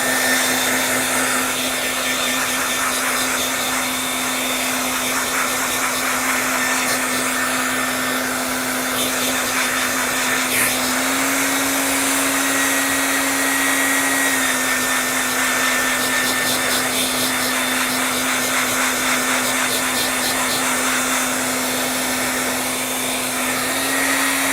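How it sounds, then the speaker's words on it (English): A hair dryer blows on wet acrylic paint with a continuous, loud, even whir and a steady motor hum that barely changes for the whole stretch, with no talking over it. "I am going to hit it with a hairdryer just because I want my aqua to be really dry"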